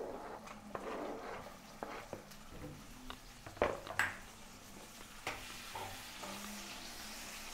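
Tomatoes go into a pan of onions fried golden brown for a baby shrimp gravy, setting off a steady low sizzle with scattered stirring scrapes and a few sharp clinks of utensil against pan near the middle.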